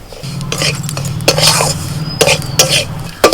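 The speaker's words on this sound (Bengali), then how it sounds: "আঁচটা কম রেখে অনবরত নাড়াচাড়া করতে হবে এইভাবে পাঁচ মিনিট সুজিটা ভেজে নেবে" Semolina dry-roasting on low heat in a pan for sujir borfi, stirred constantly with a utensil that gives repeated scraping strokes and light metallic clinks over a faint sizzle, close and loud, no one talking.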